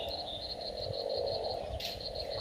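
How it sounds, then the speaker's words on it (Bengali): Frogs call on a rainy night after a storm, a rapid, evenly pulsing trill repeating continuously over a steady background hum of wet outdoor ambience. "সাথে তো ব্যাঙের আওয়াজ তোমরা শুনতেই পাচ্ছ।"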